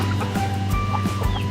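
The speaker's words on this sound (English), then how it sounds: "here's some baby chickens eating some food scraps as well" Baby chickens in a coop cluck in short, repeated bursts while eating food scraps, close and clear over a low steady hum.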